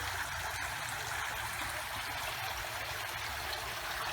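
Steady, continuous rush of water flowing over an artificial garden waterfall, pump-driven and recirculating, with a soft trickling texture, constant in level throughout, with no voices.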